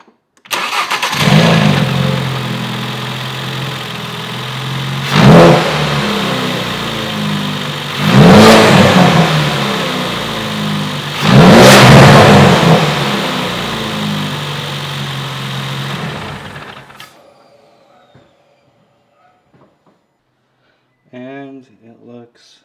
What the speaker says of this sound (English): Let's get it started and hear a couple of revs.